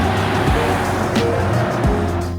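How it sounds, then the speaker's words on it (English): Vehicles rushing across a modern motorway bridge lined with sound barriers, a loud, continuous traffic roar with engine drones and a couple of tire swooshes as cars pass close by. "crossing this ultra-modern motorway bridge felt symbolic, with the sound barriers cutting us off from the natural world we'd been immersed in for the last 2 weeks, and making the passing vehicles sound extra loud"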